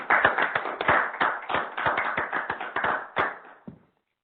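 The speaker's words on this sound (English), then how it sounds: "I'll certainly give you a round of applause for your presentation today" At a university board of regents meeting, a small group claps after a presentation, with distinct individual claps in a steady rhythm, moderately near, trailing off into silence with a last few claps.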